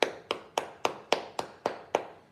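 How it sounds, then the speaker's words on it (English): One person clapping hands, eight crisp, evenly spaced claps at a brisk steady pace, close and distinct, in an otherwise quiet room with no voices. "Let's clap it up for that"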